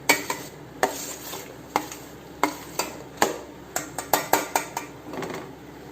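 Spoon clinking and scraping against a pan while jaggery syrup is stirred into pazham pradhaman, a Kerala banana dessert; about a dozen sharp metallic knocks at an uneven rhythm, close and moderately loud, with no talking.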